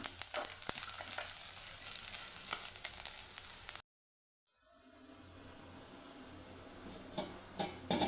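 Sago and grated coconut frying in ghee for payasam, a steady quiet sizzle with scattered crackles and stirring clicks, cut by a brief silence before a softer sizzle resumes with a few sharper pops near the end.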